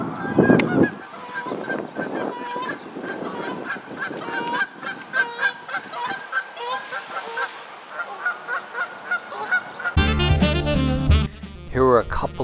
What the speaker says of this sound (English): Got a picture of the geese coming in for a landing.